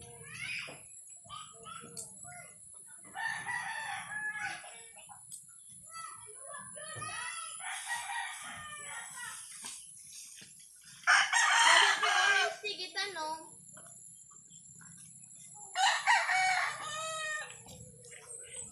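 Chickens cluck and a rooster crows in bursts, fairly close, while people talk intermittently in the background.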